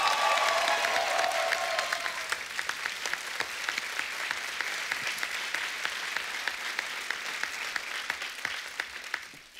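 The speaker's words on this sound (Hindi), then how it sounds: "एक बार जोरदार तालियां टाइगर के लिए हो जाए।" Sustained applause from a studio audience on The Kapil Sharma Show, dense and steady with scattered sharper claps standing out, continuing throughout without speech.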